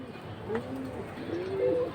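Giribaz high-flying pigeons give a soft, low cooing call up close, a short rising and falling phrase over a faint background murmur.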